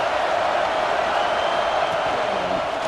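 A stadium crowd in the EA Sports College Football 26 video game cheers steadily during a third-down red zone play, a loud, continuous roar with no break for the whole stretch.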